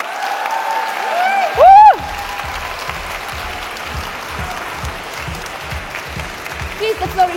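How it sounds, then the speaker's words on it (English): An audience applauds at the grand opening of a women-in-tech summit in Warsaw, sustained clapping from a large crowd filling the room, with a loud speaking voice over it at the start. "So let's give a big applause to the mayor of capital city of Warsaw, Rafał Trzaskowski."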